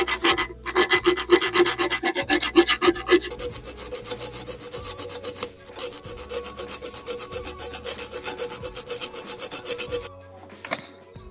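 A hand file rasps steadily against an original moped piston, producing a run of rhythmic back-and-forth strokes that is loud at first and then slows into softer, scattered scraping, close up with no talking.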